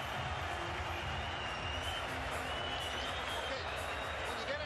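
A boxing arena crowd at a Golovkin versus Brook middleweight title fight cheers and applauds after round one. The sound is a steady, distant roar of many voices and clapping, heard under a commentator's voice.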